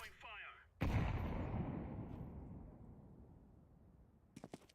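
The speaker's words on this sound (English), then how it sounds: "Throwing a grenade" A grenade explodes in Counter-Strike, one sharp loud blast followed by a long decaying rumble, with a brief voice just before it and a few faint clicks near the end.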